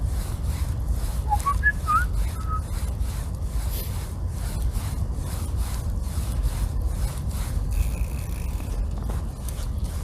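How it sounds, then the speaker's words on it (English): A person gives a few short, rising whistles outdoors in a city cemetery, faint and brief against steady rubbing, rasping noise, with a slight echo off nearby buildings. "My whistles echo off the buildings."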